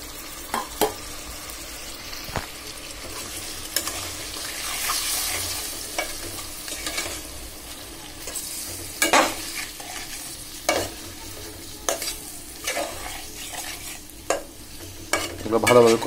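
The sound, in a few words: hilsa fish heads and tails frying in spices, stirred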